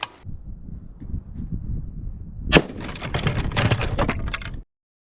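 A rifle round is fired into unidirectional UHMWPE ballistic fabric outdoors, giving one sharp crack midway through, followed by a rattling, crackling tail and steady background noise.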